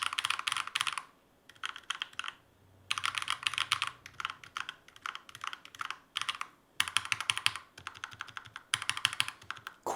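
Mechanical keyboard with lubed switches and rubber O-rings, typed on a desk, producing rapid, muted clacks in bursts separated by brief pauses. The keystrokes sound soft and fairly quiet.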